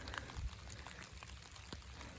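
Soft rain patters steadily with scattered drip sounds, faint and close, with no voices.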